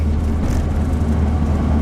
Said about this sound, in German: und jetzt kann man schön mit dem Auto fahren